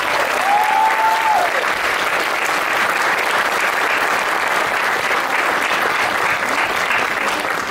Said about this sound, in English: can you please give all those people that I mentioned one more round of applause?